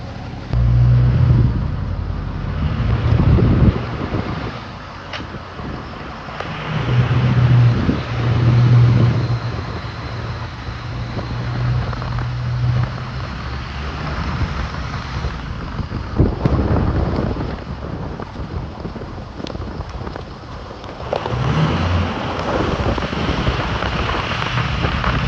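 Pickup truck with 2008 King Ranch trim driving at speed, buffeted by loud gusty wind noise over a steady road and engine rumble that rises and falls in bursts.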